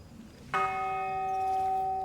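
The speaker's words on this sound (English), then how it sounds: "let's ring the bell." A bell in the video game Pathfinder: Wrath of the Righteous is struck once, giving a clear sustained ringing tone that hangs steadily over faint background ambience.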